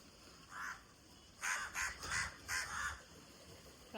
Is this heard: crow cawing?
yes